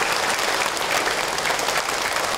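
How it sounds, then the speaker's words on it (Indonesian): Dense, even audience applause fills a religious talk-show studio for a woman who asked a question, loud and continuous with no break. "Tepuk tangan buat ibu atau yang bertanya."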